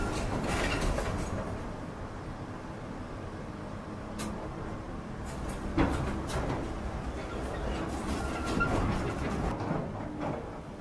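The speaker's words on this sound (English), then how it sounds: "Ancarani relies only on the ambient sound of the machinery." Heavy machinery excavating marble in a Carrara quarry gives a continuous low rumbling drone with occasional metallic clanks and knocks, fairly distant and steady throughout.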